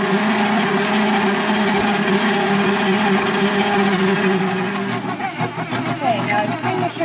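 An electric stand mixer creams butter with brown and white sugar, giving a steady loud motor whir with a beater hum that roughens and wavers near the end.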